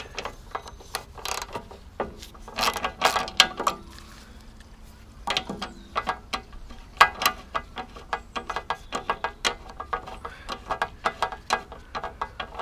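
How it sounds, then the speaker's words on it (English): A 13mm socket ratchet works loose the large rear bolt on a Briggs and Stratton engine's fuel tank, giving close, quiet bursts of rapid metallic clicking separated by short pauses. "So let's try a 13mm to remove the big bolt, which is at the back here."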